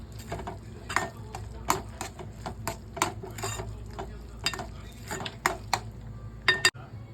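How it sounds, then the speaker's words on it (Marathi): Dal and nutmeg mixture being stirred and thickened in a pan, with repeated metal spatula clinks and scrapes against the pan over a faint sizzle, close and irregular, no talking. "आता आपण थोडीशी घट्ट होईपर्यंत ते आपण असं परतून घेणार आहोत"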